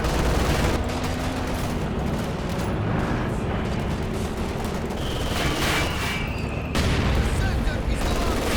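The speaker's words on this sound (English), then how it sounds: "Good mortar hit there." Mortar shell impacts in Company of Heroes 2, booming among dense, continuous battlefield gunfire and explosions, with a loud burst near the end.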